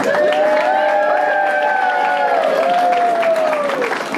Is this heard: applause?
yes